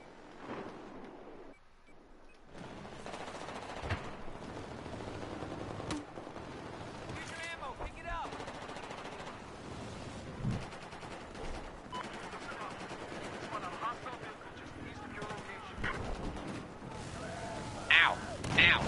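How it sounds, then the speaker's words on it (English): Battlefield 4 gunfire rattles through a squad match: bursts of automatic weapon fire, single shots and booms, with players' voices talking over the shooting. "Who's shooting me?"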